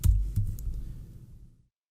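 Keys on a computer keyboard clack during spreadsheet entry, a few close, distinct taps in the opening second that fade into a soft trailing hum before silence.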